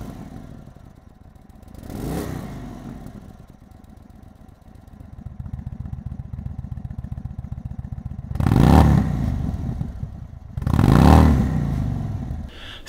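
A motorcycle with its exhaust valve fully open idles with a lumpy burble, then gives three sharp throttle blips, the last two loud and close, each swelling and falling back to idle; no speech.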